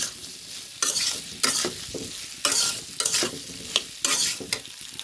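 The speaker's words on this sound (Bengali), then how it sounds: "সুন্দর করে নাড়াচাড়া করে স্বাদ মতো লবণ দিয়ে দিব" A spoon scrapes around a hot pan as food is stirred and sizzles. About nine clattering strokes come at an uneven, busy rhythm over a steady frying hiss, close by with no voices.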